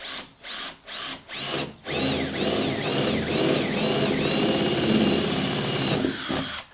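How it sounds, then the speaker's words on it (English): A power drill whirs in several short bursts, then runs steadily as it bores through wood, the motor pitch dipping and rising under load, close and loud. "so I don't break the drill bit when it goes through"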